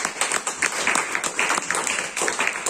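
A church congregation at a family conference in Montauban bursts into applause, with rapid, dense clapping that stays loud and close for the whole stretch and a few voices mixed in.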